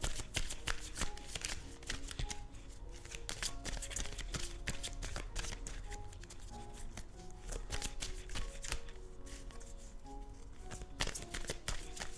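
Playing cards shuffled by hand in a steady, rapid riffling run, close and continuous for several seconds, with no talking.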